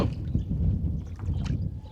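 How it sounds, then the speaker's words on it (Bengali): A rowing boat crosses a river in the Padma char area of Munshiganj, Bangladesh, with a steady close rumble of water and soft sloshing, slightly buffeted by wind. "আমরা পার হচ্ছি নৌকা দিয়ে"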